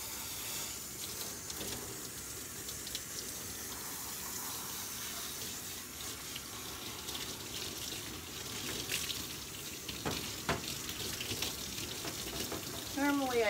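Running water rinsing a dog during grooming at a bath: a steady close hiss and splash of flowing water throughout, with a few louder splashes and brief squeaks toward the end.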